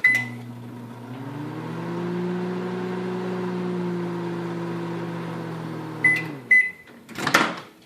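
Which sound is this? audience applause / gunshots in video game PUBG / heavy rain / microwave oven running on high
microwave oven running on high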